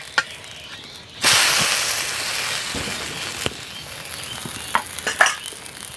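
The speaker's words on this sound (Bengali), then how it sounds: "উল্টে পাল্টে একটু ভালো করে ভেজে নিতে হবে" Oil bursts into a loud hiss as a semolina and potato snack hits the hot pan, then settles into a steady frying sizzle with a few scraping turns near the end.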